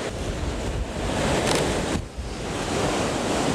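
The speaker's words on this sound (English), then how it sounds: "I just want a couple of slow-mo of the waves just crashing here" Stormy sea waves crash and surge against rock walls in a steady, loud roar of surf, with a heavier break near the middle and wind buffeting throughout.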